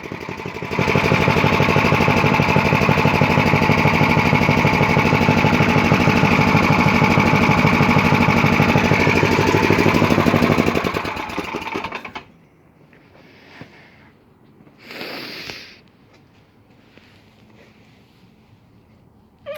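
An MTD snowblower engine roars loudly and steadily up close for several seconds, then shuts off, leaving near silence with a few faint knocks.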